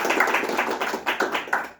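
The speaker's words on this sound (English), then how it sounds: "Can we give a please round of applause?" Short burst of scattered audience applause at a book review panel, quick overlapping claps fading out after about two seconds.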